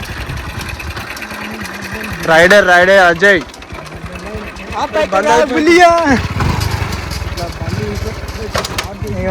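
A motorbike is clutch-started, its engine sputtering and catching, then revving in loud uneven bursts before settling into a rattling run, with someone talking close by throughout.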